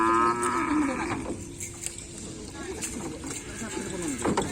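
Cattle low in long, drawn-out moos at an open bull racing field in Indonesia, one strong call opening the clip over crowd noise and people talking nearby.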